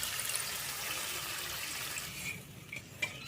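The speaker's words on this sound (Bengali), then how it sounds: "এবার এতে দিয়ে দেবো পরিমাণ মতো জল" Water poured into spicy cooked-down masala for steamed egg curry, a soft continuous splashing pour that thins out and ends with a couple of small clinks.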